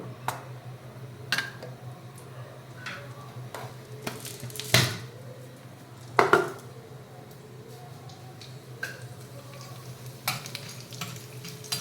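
Chana dal and urad dal frying in hot oil, with a steady low sizzle under occasional spoon stirring and scraping against the pan, a few sharper clinks standing out close by.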